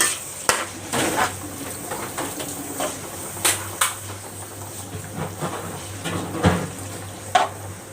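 Dishes, pots and pans being washed in a Thai home kitchen, with repeated clinks and clatters of cookware and cutlery over a steady background hiss, loud sharp knocks scattered throughout, no talking.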